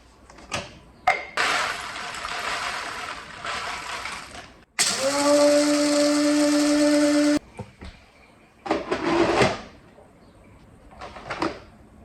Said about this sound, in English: coffee is brewing